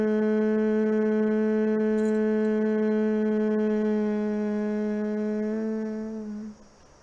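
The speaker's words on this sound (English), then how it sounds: "making the humming sound" A steady, clear humming tone made while breathing out, held in one pitch for about six seconds before it fades away, close and alone.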